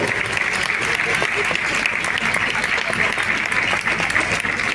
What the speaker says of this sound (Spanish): vamos a dar un corto aplauso, por favor, a toda a organización